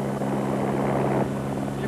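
A helicopter flies low over crowds along a Dakar 2000 rally route, its steady rotor and engine roar filling the scene as a continuous loud drone while a voice narrates over it.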